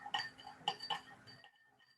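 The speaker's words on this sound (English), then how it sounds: "I'll keep stirring a little bit to really get it going here." A spoon stirs salt dissolving in water inside a glass, giving a few bright clinks against the rim in the first second and a half, then a fading ringing tail.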